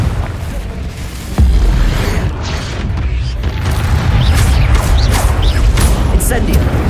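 A Confringo explosion spell in the game Hogwarts Legacy, a sudden booming blast followed by a dense, rumbling roar of fiery debris and crackles, loud and close.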